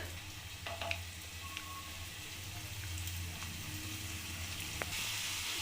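Small pieces of kuchu nimki dough fry in hot oil in a wok, a soft, quiet steady sizzle with a faint low hum underneath and a few light clicks, no talking.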